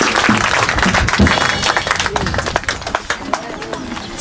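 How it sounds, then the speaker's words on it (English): Audience clapping along at a talk on the power of the mind, a loud, busy spread of hand claps with some rhythmic pulsing and crowd voices mixed in. "Clap with me."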